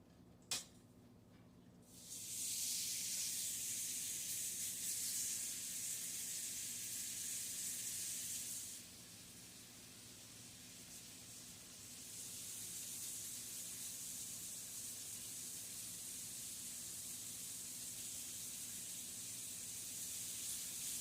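Bacon sizzling in a skillet for a Southern breakfast, a steady bright hiss that swells after a soft clatter, dips briefly midway, then resumes evenly and fairly quietly.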